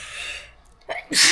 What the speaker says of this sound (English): Bless you, another one.